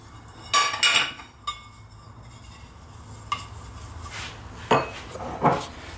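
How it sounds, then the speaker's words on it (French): Metal tart moulds being buttered and floured for chocolate tartlets, giving a few sharp clinks and taps of tin against tin and the counter, scattered irregularly and close by, with quiet handling noise between them. "Je vais donc beurrer mes moules, beurrer et fariner"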